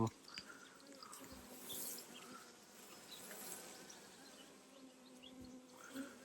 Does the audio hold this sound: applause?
no